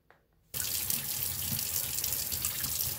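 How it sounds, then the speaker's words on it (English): Warm water runs from a kitchen sink tap during cha lua ham preparation, a sudden steady, close gushing stream that starts after a short quiet moment and keeps going. "just turn on the warm water in the sink"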